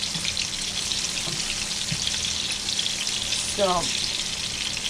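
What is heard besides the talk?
ripe fruit slices frying in a pan until golden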